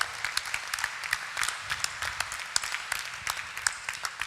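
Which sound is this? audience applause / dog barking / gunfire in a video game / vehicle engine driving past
audience applause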